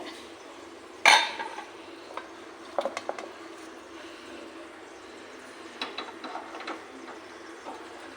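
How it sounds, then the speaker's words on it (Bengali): A duck egg do-piaza is scraped from a wok after the gas is switched off: a sharp metal clatter at the start, then scattered light scraping and clinks of utensil on pan, quiet and close. "এখন আমি কড়াই থেকে গ্যাসটা অফ করে দেবো কড়াই থেকে নামিয়ে নেব"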